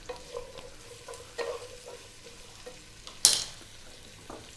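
Carrots and green beans sizzle quietly in a hot pan for a lamb stew, with intermittent stirring scrapes and one sharp clink of a utensil against the pan; no talking.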